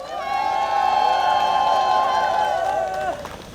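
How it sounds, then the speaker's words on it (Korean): A crowd at a campaign rally by Beolgyo station cheers and shouts, with a dense, loud mass of voices holding steady for about three seconds before it cuts off. "다시 한번 힘찬 박수 한번 부탁드리겠습니다"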